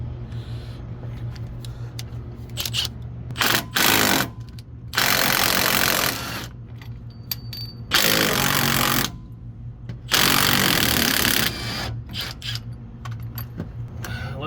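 Repeated bursts of a 3/8-inch air impact gun with a 1/2-to-3/8 adapter hammer on sway bar bolts of a 2007 Chevy Tahoe, several loud rattling runs of about a second each, separated by quieter clanks and handling noises.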